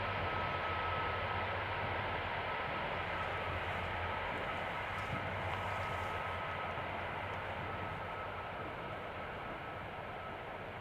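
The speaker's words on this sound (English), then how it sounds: "That was a nice, loud landing, beautiful." A passenger airplane landing at Amsterdam Schiphol Airport gives off a steady, broad engine roar with a faint whine, fairly distant and gradually fading across the whole stretch.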